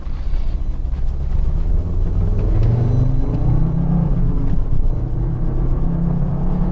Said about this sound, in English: I'm going to put it in advanced mode just to see how it handles around the exit ramps